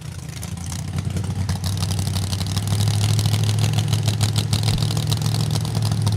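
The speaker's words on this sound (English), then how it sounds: "it sounds like we've got one car running" A drag racing funny car engine runs at Mo-Kan Dragway, a steady low, throbbing drone that grows louder and fuller partway through and holds close, with no talk.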